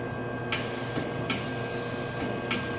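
Gas flows from an MBraun Labmaster 130 glove box into its antechamber as a steady, faint hiss, broken by three soft, evenly spaced clicks.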